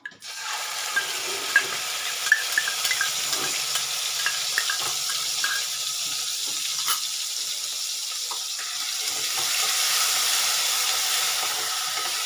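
Ginger garlic paste sizzles steadily in hot oil for egg fried rice, a continuous close frying hiss with occasional scrape-like stirring clicks, no voices.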